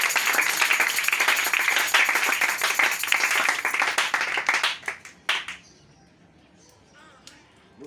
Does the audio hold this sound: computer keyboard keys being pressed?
no